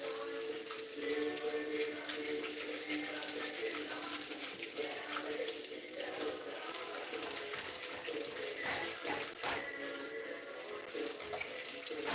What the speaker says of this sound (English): gonna splash a little bit of water in there.